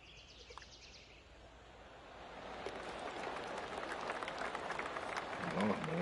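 Crowd applause on a golf course in the video game PGA 2K25, a soft patter of clapping that builds steadily from faint to fuller over several seconds, with a few bird calls in the background.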